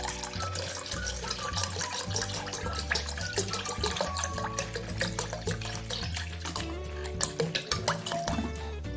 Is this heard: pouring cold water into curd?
yes